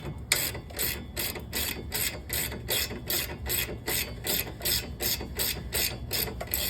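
A ratchet wrench tightens 17mm bolts on a sway bar link of a 2006-2012 Mitsubishi Eclipse, producing a steady, evenly spaced run of close, crisp clicks with no talk.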